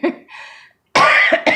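Two harsh, close coughs break out after a brief exhale, the second followed by another short cough.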